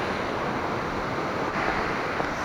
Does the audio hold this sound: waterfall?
yes